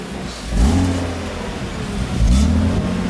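A car engine revs twice as the throttle is worked in a garage, each rev rising loud and close, then falling back to a steady idle rumble.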